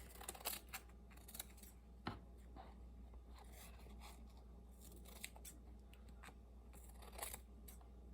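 Scissors trimming the back edge of paper for a handmade tag journal, a series of faint crisp snips scattered over a quiet room tone, with several sharper cuts standing out.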